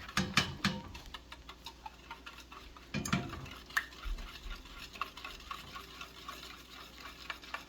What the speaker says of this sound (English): You're just gonna sit here and whisk.